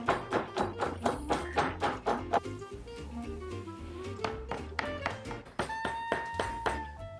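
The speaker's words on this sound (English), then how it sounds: "now I'm in the pestle and mortar" Broccoli leaves and pepper pounded in a pestle and mortar, a steady run of close, dull thuds that pauses briefly midway and then resumes in a firm rhythm.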